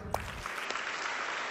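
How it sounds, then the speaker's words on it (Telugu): A church congregation claps hands together in a dense, fairly loud burst that carries on evenly for a moment. "కాబట్టి గట్టి కొట్టండి చప్పట్లు."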